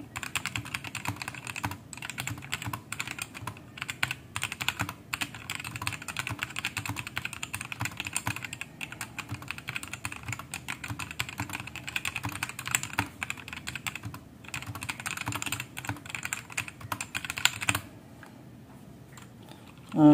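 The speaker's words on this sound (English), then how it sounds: "let's start the typing test" Rapid, continuous typing on a budget Ziyoulang T8 65% mechanical keyboard gives a dense stream of close, deep, bouncy key clacks that stops abruptly near the end.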